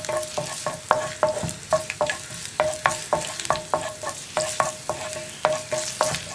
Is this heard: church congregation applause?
no